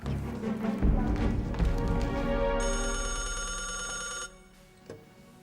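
A telephone rings in an Indonesian TV drama scene, its steady electronic tone holding for a couple of seconds over earlier thumps and room noise, then cutting off before a faint knock.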